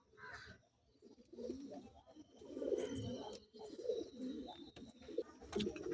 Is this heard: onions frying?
no